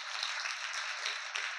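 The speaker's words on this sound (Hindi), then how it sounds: "एक बार जोरदार ताली बजाइए।" Students in a school classroom clapping together, a steady wash of applause held evenly for the whole moment, moderately loud with no voices over it.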